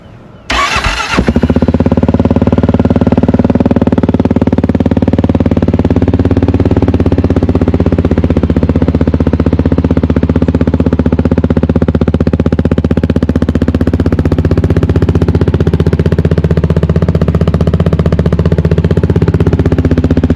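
A Kawasaki KLR 650 motorcycle with a Delkevic 9-inch oval 304 stainless steel exhaust and 76 miles on it starts up in neutral, then settles into a loud, steady, close idle that runs unbroken for the rest of the clip.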